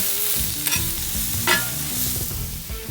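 Mushroom burgers sizzle steadily on a grill, with a loud continuous frying hiss and a couple of brief scraping flares from a spatula.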